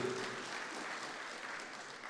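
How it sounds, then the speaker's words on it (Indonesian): Audience applause at a formal gathering, a continuous spread of clapping heard faintly and at a distance, steady throughout without talk. "mari kita tepuk tangan untuk seluruh yang hadir"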